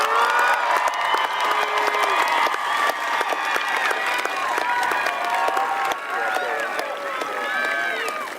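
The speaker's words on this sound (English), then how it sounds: "Please offer these graduates a round of applause." A crowd at a high school graduation ceremony applauds the graduates: sustained, loud clapping fills the hall for several seconds, with scattered cheers and whoops rising through it.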